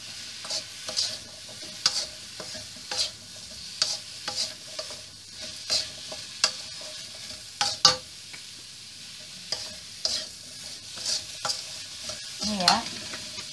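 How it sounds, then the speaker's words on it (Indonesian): A pan of vegetables, stir-fried until wilted for a home lunch, gives a steady close sizzle with repeated scraping and clinking stirs at a fairly even rhythm throughout, without talk. "Dan stir, dan tunggu sampai dia layu."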